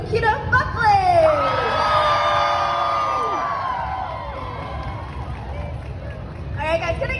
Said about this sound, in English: make some noise for the voice of Cookie Shinobu Kira Buckley!